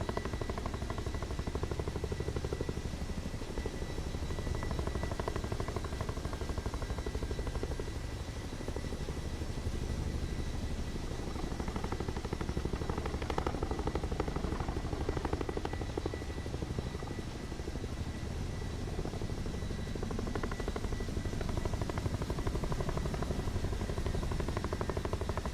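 Steady whirring drone of a helicopter rotor and turbine in Microsoft Flight Simulator 2024 played on PS5 Pro, continuous and fairly even in level for the whole stretch, with no talk over it.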